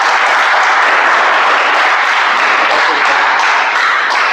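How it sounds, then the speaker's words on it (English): A meeting audience gives a speaker a loud, dense round of applause, with continuous close clapping sustained from start to finish. "Can we have a round of applause for our speaker, please?"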